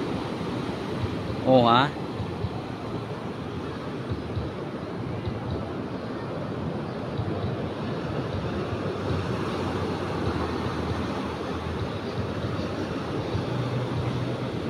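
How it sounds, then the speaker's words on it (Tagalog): Ocean waves surge and crash steadily on the shore at Casiguran, a broad continuous roar of rough surf mixed with wind noise, with a brief voice exclaiming near the start. "Kaya gandang pagmasdan ang alon, mga kabugso."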